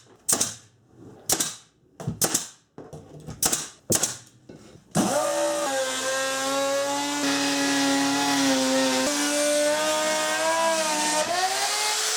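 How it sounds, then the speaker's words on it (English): A power saw cuts plywood for camper trailer cabinet face and bottom panels, a loud sustained whining buzz with shifting pitch, preceded by several sharp intermittent bursts as the blade starts and stops. "Now I just need to cut some plywood for the face and bottom."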